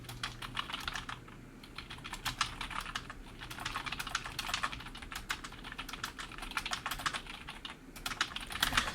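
Close, steady typing on a computer keyboard, with rapid irregular key clicks running continuously and alone, no voices over it.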